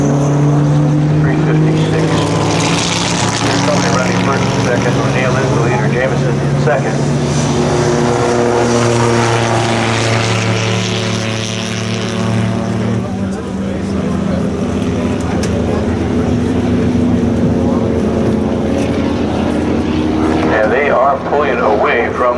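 Vintage race cars including a white Maserati Birdcage and a Porsche racing past, loud engines droning and shifting pitch up close, with a commentator talking throughout.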